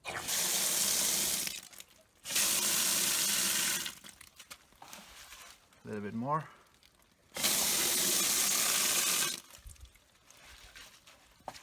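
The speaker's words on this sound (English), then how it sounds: "And then you just fill it with some water to soak." Tap water gushes into a bucket to soak scrap paper into pulp for hobby terrain, running in three long loud bursts with pauses between; a voice speaks briefly in one gap.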